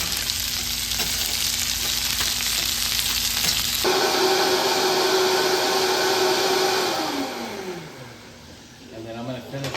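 Venison frying in a pan gives a steady, loud sizzle, with a machine hum under it early on. Later the hum shifts pitch and fades while the sizzle carries on.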